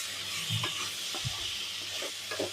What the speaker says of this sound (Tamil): இப்போ இதை நல்லா நம்ம கலந்து விட்டுக்கலாம்.